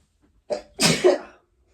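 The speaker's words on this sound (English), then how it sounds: "Hold on, I gotta sneeze." A single close sneeze: a short sharp inhale followed by a loud explosive burst, alone in a quiet room.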